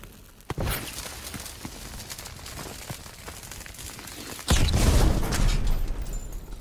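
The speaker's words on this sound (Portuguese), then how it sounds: "Cuidado, explosão!" An in-game explosion in the World War II shooter Call of Duty WWII, a sharp bang followed by a loud rumbling blast over a noisy battlefield background, moderately distant with no talk over it.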